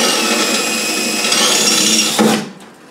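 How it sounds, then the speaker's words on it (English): A power drill whines at high speed, grinding steadily through metal pop rivet heads on a Land Rover Defender seatbox for a couple of seconds before it cuts out and spins down. "So just have to drill off"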